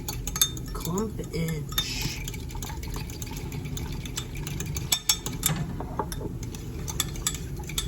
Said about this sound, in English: Mix it up in this little measuring cup so there's no clumpage.